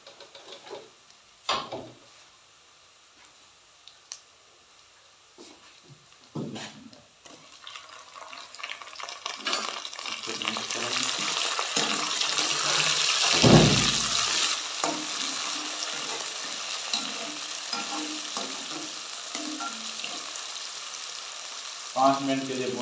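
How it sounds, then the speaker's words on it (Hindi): Green tomatoes added to golden fried onions sizzle and fry in a pan for a dhaba-style spiced cauliflower curry, with bursts of stirring and scraping and a steady hiss that swells louder midway, heard close without talk. "पाँच मिनट के लिए भुनेंगे अपने टमाटर को"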